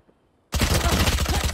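After a quiet moment, a dense rapid burst of video game gunfire erupts and continues loudly, close and unbroken, with no voices over it.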